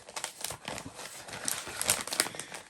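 A small Amazon parcel is unwrapped with continuous close, soft crinkling and rustling of packaging, a few sharper tearing crackles along the way.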